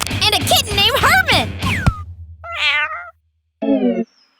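A kitten meows loudly up close, a single call after a stretch of talking, then another shorter meow follows a brief pause; children's voices are heard chattering before the first meow.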